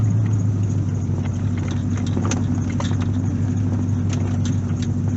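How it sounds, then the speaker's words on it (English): C4 Corvette with no acceleration backing out in reverse into the street, a steady low engine rumble and idle hum filling the clip, close and continuous with faint clicks and no talking. "watching the video of a car going in reverse"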